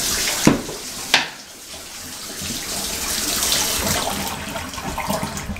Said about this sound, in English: Oh, the hot water's running.